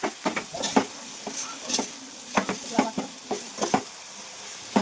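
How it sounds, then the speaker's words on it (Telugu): Boiled soya chunks (meal maker) go into a cooking pan, giving a run of close, irregular clinks and scrapes against soft sizzling, like stirring with a utensil. "ఇప్పుడు ఉడకబెట్టిన న్యాచురల్ మిల్ మేకర్ వేయాలి."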